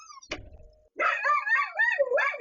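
A dog gives one sharp bark, followed after a short pause by a drawn-out, wavering whine-howl that rises and falls. The sounds are close and there is no talk.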